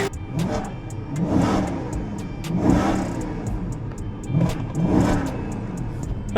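A 4.7-liter Ferrari-derived naturally aspirated V8 of about 420 horsepower revs repeatedly in rising and falling surges, a deep throaty roar that swells every second or so, close and loud.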